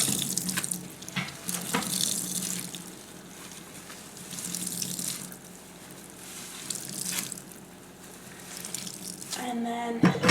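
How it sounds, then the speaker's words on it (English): Water running and splashing in a sink while wet felt is squeezed out by hand, a steady close-up wash of trickling and gushing with a few drips near the end. "here we're at the sink, and I'm just gonna squeeze out all the water"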